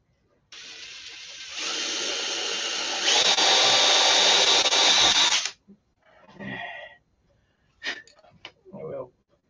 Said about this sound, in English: So let's drill another hole